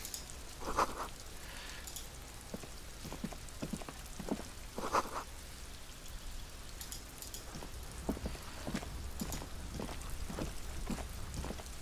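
Steady rain falls in the video game Disco Elysium, a constant hiss with soft drips and faint taps, and nothing else plays over it.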